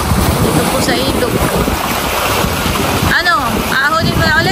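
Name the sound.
strong rushing river water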